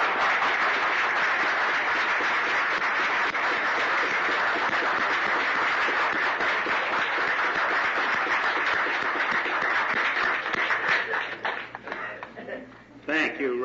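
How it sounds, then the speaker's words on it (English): A memorial service audience applauds in a dense, sustained burst of clapping that holds steady for about ten seconds, then thins out and fades near the end. "The applause shows you how everyone loves it."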